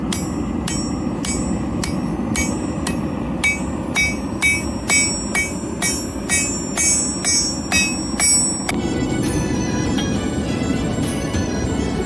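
Steady metallic hammer strikes ring out in a fast, even rhythm, forging a copper Damascus billet for a knife over a constant background roar, then the blows stop and the hum continues.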